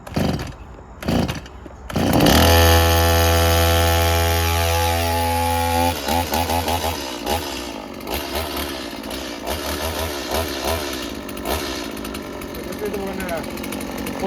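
A STIHL 18-inch chainsaw gets a few sharp pull-cord tugs, then fires and roars at high revs before settling into a loud, buzzing idle with uneven revving.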